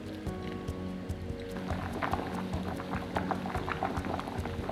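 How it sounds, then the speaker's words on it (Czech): Salted water bubbles and pops at a steady boil in a pot, a busy crackling simmer at low level without talk. "se nám začala vařit voda, která je osolená"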